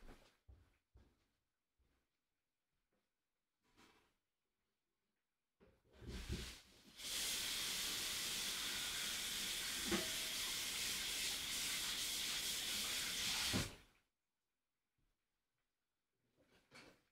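Hosoya Meat gyoza frying in a pan give a loud, steady sizzle for about seven seconds after a few faint knocks, then cut off abruptly back to near quiet.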